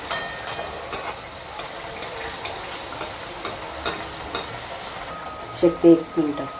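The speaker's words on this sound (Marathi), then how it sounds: "आणि हे लगेच फ्राय करून होतात है ना?" Food frying in a hot pan for a quick homemade festive snack, with a steady sizzle underneath, a few sharp clicks and taps of utensils, and a brief clatter toward the end.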